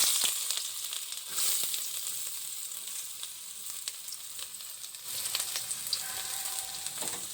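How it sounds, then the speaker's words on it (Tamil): Onions frying in hot oil, a dense hissing sizzle that swells sharply at the moment they hit the pan and then holds steady with a few crackles and spatula clicks. "இப்போ வந்து வெங்காயம் வந்து சேர்த்துக்கலாம்."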